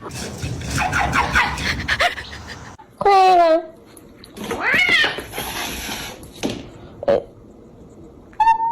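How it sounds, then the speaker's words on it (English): A cat meowing and caterwauling in loud, drawn-out wails, with a rising yowl near the middle and shorter cries toward the end, alternating with a voice talking between them. "This cat just over here."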